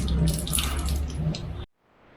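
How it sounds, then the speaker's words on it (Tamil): Water gushing from a pipe after hand pumping, a loud splashing flow lasting under two seconds before stopping abruptly, leaving quiet background. "நான் ஒரு வாட்டி பம்ப் பண்ணி விட்டேன்னா அப்படியே தண்ணி வந்துக்கிட்டே இருக்கும்."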